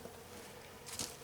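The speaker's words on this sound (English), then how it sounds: "watch these bees at work inside this hive" Honey bees working inside a hive in a bee yard: a faint, steady low buzzing drone over about a second, with no voices.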